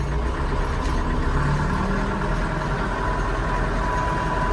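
DMTZ 404XC tractor engine running steadily as the machine starts to drive off, a constant low diesel rumble at moderate level with no voices.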